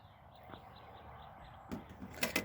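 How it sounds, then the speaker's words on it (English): Soft, repeated cooing calls of mourning doves outdoors, a steady series of faint hooting notes in the background, followed near the end by a couple of brief louder knocks or clatters close by. "I hear mourning doves."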